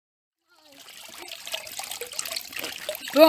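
Water is poured over carimã cassava dough to wash it, building from silence into a steady, close trickle and splash that grows louder toward the end.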